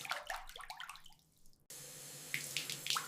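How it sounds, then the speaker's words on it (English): Running water at a sink as a face is rinsed, with close splashing that stops abruptly, then a steady tap flow with further splashes toward the end. "I rinse my face."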